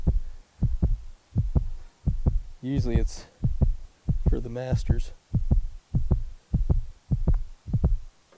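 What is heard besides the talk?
heartbeat sound effect like in Tiger Woods PGA video game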